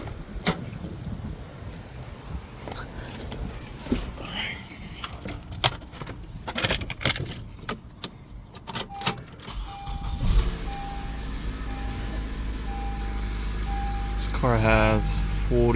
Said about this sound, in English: I'm gonna move this car a little back so it doesn't get overspray